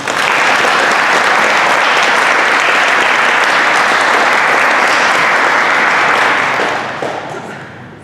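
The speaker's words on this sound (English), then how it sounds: "Please give them another round of applause." A crowd at a high school FFA awards banquet gives a loud, sustained round of applause, many hands clapping densely and evenly before it tapers off near the end.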